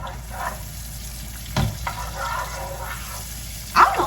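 Trader Joe's pumpkin gnocchi frying in a pan, heard as a soft, steady sizzle broken by a few sharp utensil knocks against the pan, with no talking.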